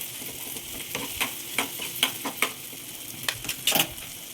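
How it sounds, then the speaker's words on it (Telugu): Boiled potatoes being mashed and mixed by hand for mirchi bajji stuffing, a run of soft irregular squelching presses and light clinks of a spoon against a bowl, close and quiet, no talking. "ఇలా స్మాష్ చేసుకుంటూ కలుపుకోవాలి"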